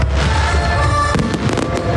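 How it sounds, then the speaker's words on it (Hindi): Fireworks display over parks in Dundee, Scotland, a loud continuous roar of bursts with a cluster of sharp cracks and pops in the second half. "स्कॉटलैंड के शहर डंडी के बॉक्सटर पार्क और लोकी पार्क में रंगारंग आतिशबाजी ने आसमान को गुलनार कर दिया।"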